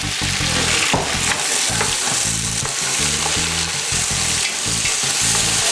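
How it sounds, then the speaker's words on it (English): Loud, steady sizzling and frying of garlic, chilli and prawns in a hot pan, with occasional clinks and stirring scrapes throughout, close up and without talk. "Just warming, sizzling the garlic and chilli, and then tossing in these prawns"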